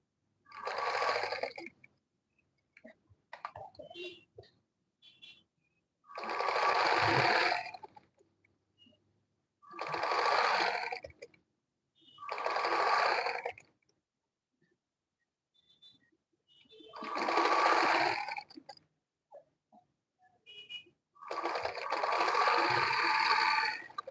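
A sewing machine stitches an Ankara gown in several short runs of close, steady whirring, each a few seconds long, broken by quiet pauses with small handling sounds.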